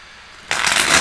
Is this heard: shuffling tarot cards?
yes